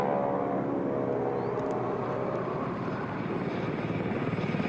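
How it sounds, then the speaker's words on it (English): Army Air Corps Blue Eagles display helicopters fly alongside a Stearman biplane at the Royal International Air Tattoo, a loud, steady rotor-and-engine drone that holds constant throughout. "They're accompanied by the Blue Eagles, the Army Air Corps helicopter display team"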